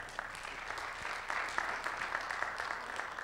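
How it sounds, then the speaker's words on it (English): An audience at a community conversation event on high school dropout rates claps steadily, a dense crowd of hands at moderate distance sustained evenly throughout without voices. "All right, give him a round of applause."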